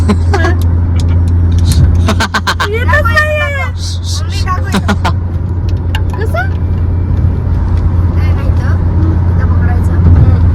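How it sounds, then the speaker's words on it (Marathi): A car's engine drones steadily from inside as it drives on a highway, with road noise underneath, people talking over it and brief sharp clicks and tones. "मस्त हायवे वर गाडी चालू आहे भावांनो आपली"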